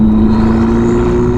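A Ferrari SF90 fitted with a Novitec exhaust gives a brief, loud, close engine rev with a strong steady tone.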